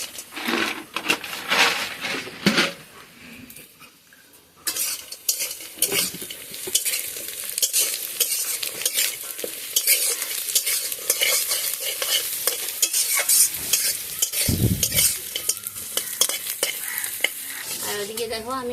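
Greens gathered from a field sizzle in a pan with chopped onion, chili and bori while a utensil stirs and scrapes steadily, with clinks of cookware throughout.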